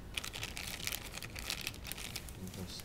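A parcel from China holding a Death Star model is unwrapped, with close, steady crinkling and tearing of plastic and paper packaging across the whole stretch, no talk.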